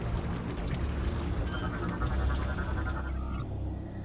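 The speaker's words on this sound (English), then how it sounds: "Raw fuel gel is pouring through these openings" Raw fuel gel pouring through openings in the video game Metroid Prime 3: a steady, close liquid gush with a low rumbling drone, a faint tone entering partway through and a brief high whine near the end, with no talking.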